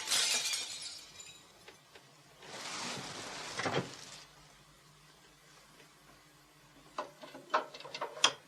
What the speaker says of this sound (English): I think somewhere in the night a window smashed.